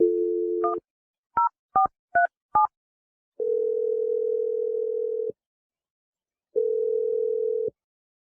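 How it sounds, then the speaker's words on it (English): A steady dial tone, then a quick series of four short dialing beeps, followed by two long ringback tones separated by a pause. "I'm going to dial Dave's phone number"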